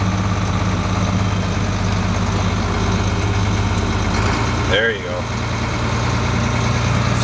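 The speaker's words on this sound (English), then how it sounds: "If you watch, your engine speed will increase as you push forward." A John Deere 4640 tractor engine runs with a loud, steady low rumble, shifting slightly in pitch as it speeds up, while a person speaks briefly near the middle.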